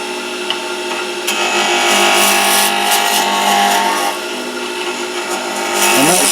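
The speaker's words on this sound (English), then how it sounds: "a whacking great 3/4 inch roughing gouge" A 3/4 inch roughing gouge cutting a spinning pen blank on a wood lathe, a loud close rasping scrape over the steady motor hum, the cut swelling and easing in long continuous passes without any talking.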